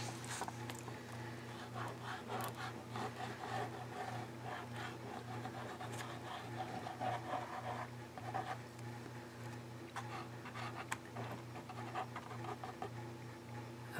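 A Posca paint pen drawing on a surface, faint, irregular scratchy strokes heard close up over a low, steady background hum.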